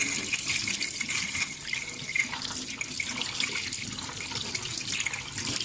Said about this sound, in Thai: แล้วเราก็เอามาล้างน้ำนะคะ